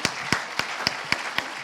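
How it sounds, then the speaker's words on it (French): Steady, evenly spaced hand claps at a solidarity award ceremony, a handful of sharp, close claps in a regular rhythm with little else around them. "On vous applaudit chaleureusement."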